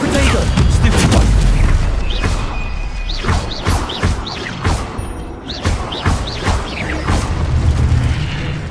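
Incendio fire spell cast in Hogwarts Legacy amid combat, with loud booming bursts and crackling impacts at first, then a rapid run of whooshing and chirping magic effects, over game noise.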